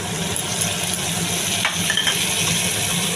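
Pointed gourd frying in a pan as a mixed spice paste is added, a steady dense sizzle with a metallic clink of a utensil partway through.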